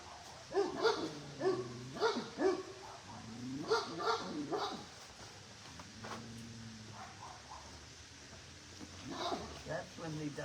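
A dog barks in a series of sharp bursts early on, mixed with people talking outdoors on a farm where donkeys are kept. The barking fades into quieter voices and faint whimpers.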